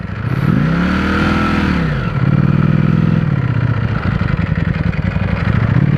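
A Ducati Panigale V4S four-cylinder superbike revs hard and close, its engine note swelling and falling in one long sweep before settling into a steady, rasping drone with no voices over it.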